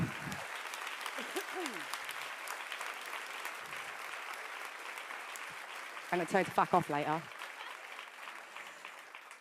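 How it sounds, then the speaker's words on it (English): Applause from the audience at a singer's leadership award acceptance speech, a steady, fairly soft wash of clapping running throughout, with someone talking over it and a brief burst of laughter-like voices near the middle. "give him a big clap"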